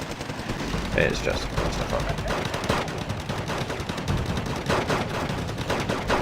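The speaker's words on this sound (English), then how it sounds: "the Royal Marines are shooting them, they're shooting the Royal Marines, the flamethrowers are shooting at everybody" Wargame: Red Dragon battle gunfire between Royal Marines and Motostrelki, with continuous machine-gun and rifle bursts at moderate distance under a speaking voice.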